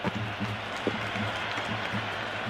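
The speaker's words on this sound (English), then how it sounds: "The crowd is electric right now." Sustained crowd applause in a cricket video game, a dense, even roar of clapping that holds throughout at moderate distance, with faint voices underneath.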